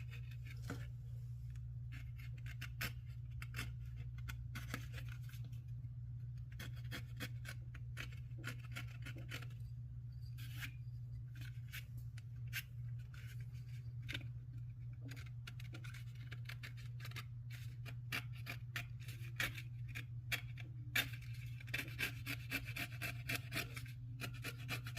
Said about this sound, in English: This is where it pays to have a sharp blade, because you can just shave those little edges off.